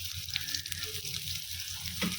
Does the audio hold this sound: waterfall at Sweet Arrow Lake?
no